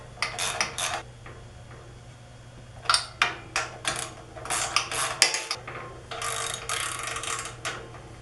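Bolts being snugged down on the print head of a Ranar Elite 6 color 4 station screen printing press, heard as clusters of metallic clicks and ratcheting clatter in short bursts with brief pauses, fairly close and moderately loud.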